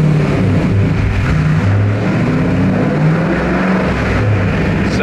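Cheap sports car accelerating steadily through its gears, a loud continuous engine drone with shifting low pitch filling the whole stretch, heard from inside the car without talk.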